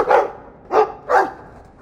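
Three loud, close dog barks in quick succession inside the Dragon Age 2 video game, evenly spaced and separated by short gaps, with no talking over them.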